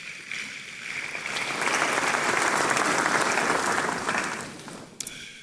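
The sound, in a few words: audience applause at a law school lecture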